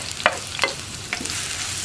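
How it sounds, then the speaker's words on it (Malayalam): Sliced onions fry in coconut oil in a pan with a steady close sizzle, while a spoon scrapes and stirs in three brief strokes. "അപ്പോൾ നമ്മുടെ വെളിച്ചെണ്ണയിലേക്ക് നമുക്ക് കട്ട് ചെയ്ത് വെച്ചിരിക്കുന്ന സവോള ചേർക്കാം."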